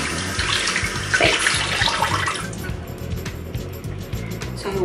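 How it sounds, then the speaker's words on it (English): Cold tap water runs steadily into a sink to soak a black facial cleansing sponge, a continuous splashing rush loudest at first and easing later, with a brief voice over it. "I'll go ahead and wash this with cold water"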